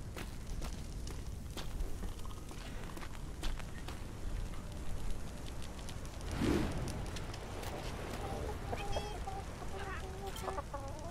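Chickens cluck and fuss in the survival game Atlas, a few scattered calls over low steady background noise, with one louder flurry near the middle.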